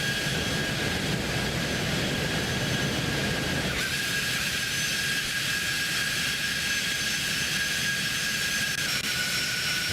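Steady, loud roar of a Cessna Citation X business jet's engines in a flight simulator game during descent, a continuous broadband whoosh with a high whine, shifting slightly partway through, no voices.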